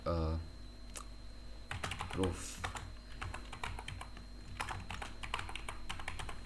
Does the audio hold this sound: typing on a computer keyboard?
yes